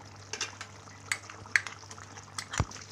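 A spoon scrapes and clinks against a pot while chicken korma is stirred with a paste of fried onions, giving a series of irregular close metallic taps and scrapes over a low, steady hum.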